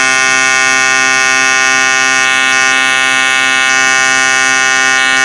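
A TIG welding arc on aluminum gives a steady, loud electric buzz throughout, even and unbroken, with slight shifts in its tone as the pedal is worked.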